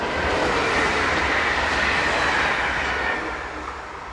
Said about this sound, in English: Z26500 unit number 435 heads a train for Chartres.